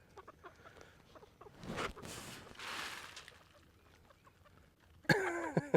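Farm chickens gathered at their feed make soft scattered pecks and rustles, then one bird lets out a loud, close cluck near the end.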